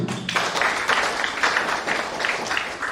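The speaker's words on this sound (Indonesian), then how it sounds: "Tepuk tangan." Applause at a campus visit by a provincial governor in Kupang, a modest group clapping in uneven bursts for a few seconds, fairly close and moderately loud.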